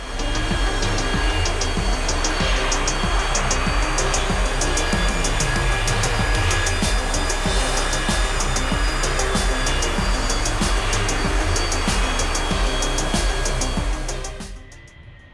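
An A-4E Skyhawk jet in the DCS simulator taxis toward the runway, its engine a steady loud whine and roar with a pulsing texture, holding constant before cutting off sharply at the end.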